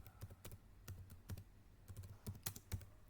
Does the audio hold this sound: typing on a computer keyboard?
yes